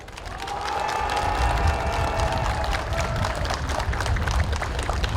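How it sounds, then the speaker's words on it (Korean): Applause from an audience at a Yeongju city council candidate's campaign office opening, welcoming elderly local attendees: dense, sustained clapping that holds steady and fairly loud throughout, with a faint tonal hum beneath the crowd noise. "우리 젊은 후배님들께서 참석하신 어르신들을 위해서 큰 박수 한번 부탁드리겠습니다"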